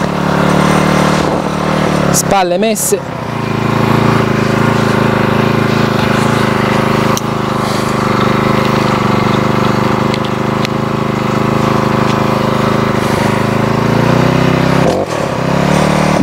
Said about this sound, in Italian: Ok, il decespugliatore è in moto, lo mettiamo in funzione.